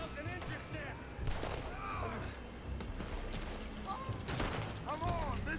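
Rapid bursts of gunfire from a Western shooter video game, Red Dead Redemption 2, rattle in repeated volleys over game effects, with someone talking throughout.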